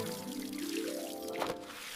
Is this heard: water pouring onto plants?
yes